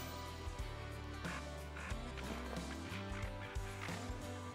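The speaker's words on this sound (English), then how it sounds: "Those are tufted ducks." Tufted ducks circling in the Call of the Wild hunting game, a steady run of quacking and calling that sits over a low droning game ambience, with no talking.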